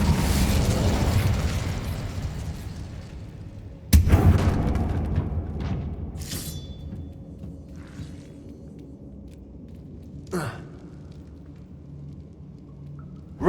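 A fire spell cast in Hogwarts Legacy sets off one sharp burst at about four seconds. It swells into a rumbling whoosh that fades away, and softer pops and magical effects follow later.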